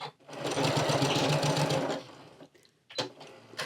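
A sewing machine stitches a seam straight across the closed end of a fabric tube, a steady close whir running for about two seconds before stopping, followed by a few faint handling sounds.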